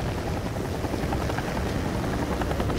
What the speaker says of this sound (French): Un hélicoptère de lutte contre l'incendie est toujours utilisé lorsque le feu est très difficile à atteindre.